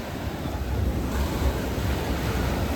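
Ocean surf washing onto a beach in Goa, a steady low roar of breaking waves with wind noise on the microphone, continuous and fairly close, no talking.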